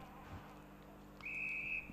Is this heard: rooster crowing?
no